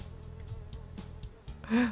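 A housefly in Fly Simulator hums faintly and steadily beneath soft repeated taps, closing with a louder brief rustle.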